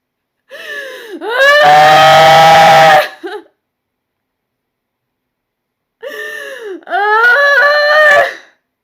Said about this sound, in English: this chick was screaming